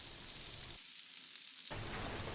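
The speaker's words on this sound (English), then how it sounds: "Once the oil is hot, add onion, garlic, ginger. Cook over medium heat until the onion starts to get brown." Onion, garlic and ginger sizzle in hot oil over medium heat for butter chicken, a steady loud frying hiss that drops out briefly in the middle and then returns.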